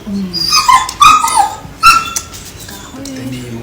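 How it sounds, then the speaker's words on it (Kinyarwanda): A dog whimpers in several high, thin whines that rise and fall in short bursts close by, then quietens toward the end, with a person speaking softly over it. "dufite n'imbwa nta kibazo"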